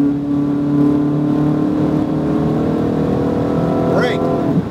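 A Ferrari 488 GTB engine drives hard at full throttle with a loud, steady tonal roar that climbs before a shift, while a voice talks over it throughout.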